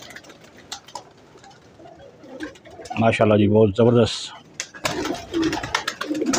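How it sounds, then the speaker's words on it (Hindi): High flying pigeon chicks coo in a rolling burst from a nearby loft, a few throaty calls standing out amid soft ticking and someone speaking before and after. "सारे हाई फ्लाइंग पिजन के बच्चे हैं"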